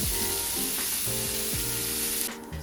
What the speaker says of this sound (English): Now I've taken a half a cup of chopped onion and I'm going to brown that.